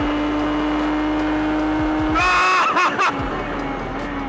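A Radical race car engine held at full throttle gives a steady, loud, buzzing howl, then briefly stutters through a gear change before pulling hard again.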